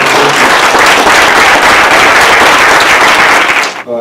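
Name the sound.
audience applause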